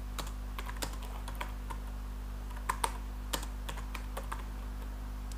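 Keystrokes clicking on a computer keyboard, scattered and fairly quiet over a steady low hum, with a few sharper taps standing out as enter or backspace presses.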